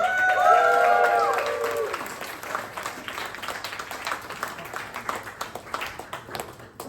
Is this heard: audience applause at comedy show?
yes